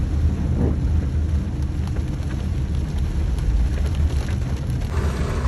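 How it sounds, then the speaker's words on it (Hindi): Heavy rain pours down in a dense, steady roar, with a low rumble underneath and no talking. "इस टाइम जी फुल बारिश हो चुकी है, फुल बारिश हो रही है।"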